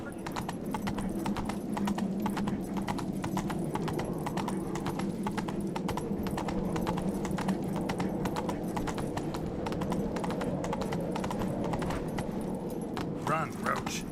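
Roach, Geralt's horse in The Witcher 3: Wild Hunt Next-Gen, gallops with steady, rapid hoofbeats that run loud and unbroken throughout, accompanied by game music and speech over the top.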